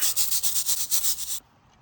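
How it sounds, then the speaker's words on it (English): A stiff brush scrubs cleaning chemical into a headstone in a cemetery, with about ten quick rhythmic strokes, close and loud, before the scrubbing stops and leaves only faint background. "you can either spray and keep brushing, or spray, brush it in,"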